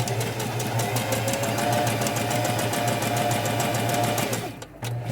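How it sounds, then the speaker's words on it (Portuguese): A sewing machine stitches a straight corner seam, its rapid even motor hum and needle chatter running loud and close before slowing to a stop near the end. "a costura de canto você vai costurar reto"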